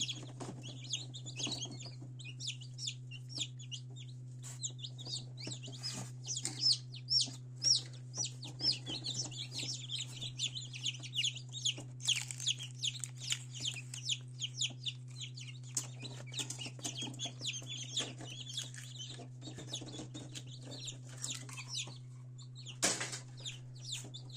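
Many tiny newly hatched chicks chirp continuously in high, rapid peeps inside an incubator over its steady low electrical hum, with occasional soft rustling nearby.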